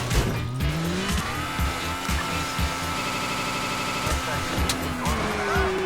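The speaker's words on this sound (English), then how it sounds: "now that I've flipped my car" Car tires squeal and skid in a video game as the car flips over, a loud, sustained engine roar with a screeching whine, mostly continuous with brief thumps near the end.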